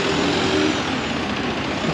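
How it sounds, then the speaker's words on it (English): A bus idles at Edgware bus station in London, giving off a steady, loud broadband hiss like air brakes releasing. A low engine rumble sits underneath, with no talk. "here's the bus station, the actual bit of it."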